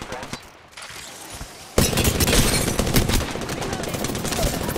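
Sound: gunfire in the video game Apex Legends

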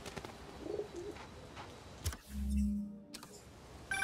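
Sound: bird, maybe a pigeon, in the video game Marvel's Spider-Man Remastered

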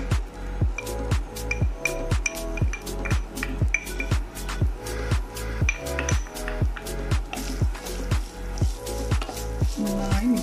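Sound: chicken frying in a pan

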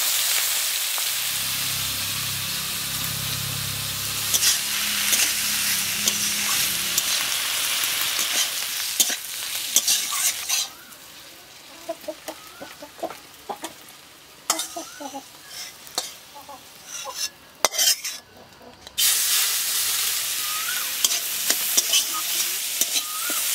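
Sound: chopped brinjal, potato and onion frying in oil

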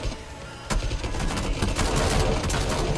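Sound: gunshots in the video game PUBG

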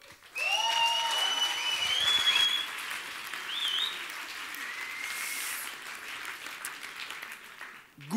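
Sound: applause for a science slam speaker

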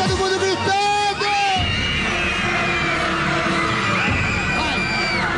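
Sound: crowd shouting and screaming at TV festival show

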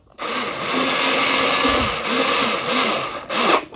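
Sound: screw gun driving a screw into a mounting bracket

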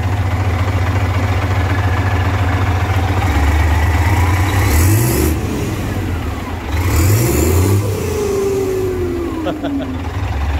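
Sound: engine revving with howling modified exhaust pipe

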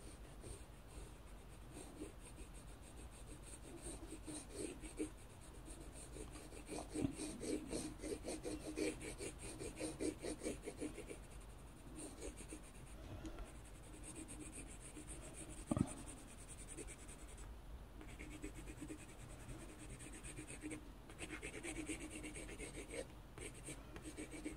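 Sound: coloring paper with an orange watercolor pencil

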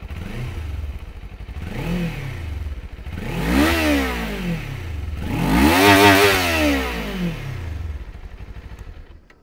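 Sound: Kawasaki Z400 motorcycle engine revving

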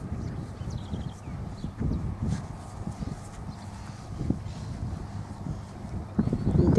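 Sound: quarter horse walking, hoof clip-clop

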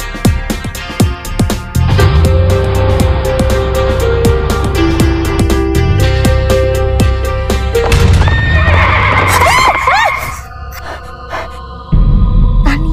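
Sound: horse passing quickly, neighing and hooves clopping

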